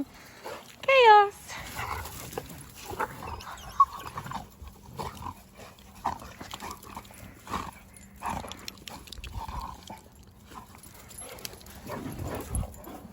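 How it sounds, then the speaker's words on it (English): Several dogs scuffle in rough wrestling play, with a sharp yelp early on and scattered growls and snuffles. A person talks over them throughout. "She's not very good at the wrestling type of fun play that this lot do."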